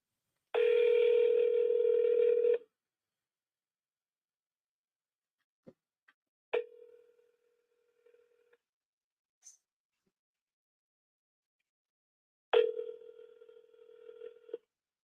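Telephone line tones during a live cold call to cash buyers: a sustained tone for about two seconds, then a few brief clicks and beeps and a later shorter tone burst, fairly quiet with long silent gaps between.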